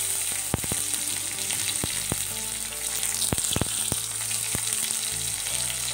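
Cluster beans (guar) frying in two spoons of hot oil in a pan: a steady close sizzle with scattered sharp pops and spatters and occasional stirring scrapes, no talk.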